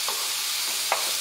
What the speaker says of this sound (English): That is sizzling.